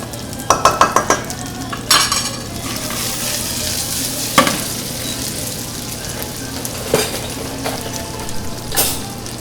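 Cuban lechon asado marinade with extra virgin olive oil being worked into a paste, a steady close scraping and stirring texture with several sharp clinks and knocks of a utensil against the bowl, no talking.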